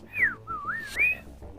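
A person whistles a close, loud, sliding melody of a few rising and falling notes, wavering and playful, with nothing else over it.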